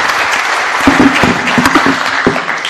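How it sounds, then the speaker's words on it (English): A short burst of audience clapping for panelists at a digital summit conference, a close, lively round of applause with a few sharper individual claps standing out. "a round of applause to our esteemed panelists"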